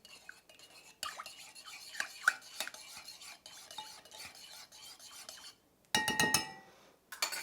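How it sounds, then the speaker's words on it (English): A utensil stirs liquid ingredients for blueberry streusel muffins in a bowl, with quick scraping strokes and light metallic clinks, a brief pause near the end, then a final louder burst of mixing. "mix the liquid together."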